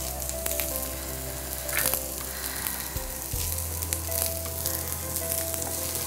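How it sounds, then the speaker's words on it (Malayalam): Onions and curry leaves frying in a pan give a steady, close sizzle with faint stirring scrapes and a low hum throughout, with no talking. "എല്ലാം കൂടി മൂക്കട്ടെ."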